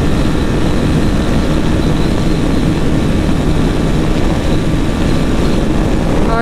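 Loud, constant roaring wind rushes past a rider on a BMW G310GS motorcycle at top speed, a dense unbroken buffeting that buries any engine note, close and steady throughout.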